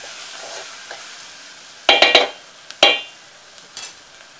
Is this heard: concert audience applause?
no